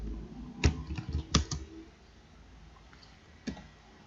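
Typing on a computer keyboard: a handful of sharp, close key clicks, a short cluster early on, then quiet, then a single later tap, all faint against a quiet room.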